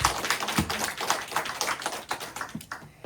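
A church congregation claps in praise, a quick run of close, sharp claps with uneven rhythm over a few seconds, no talking.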